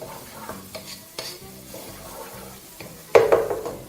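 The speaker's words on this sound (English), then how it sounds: "Basically just fry that till it's a little more fragrant." Onions frying in a pan with tomato and garlic for cauliflower, a soft continuous sizzle broken by several sharp spatula scrapes and taps, ending in a louder burst of stirring.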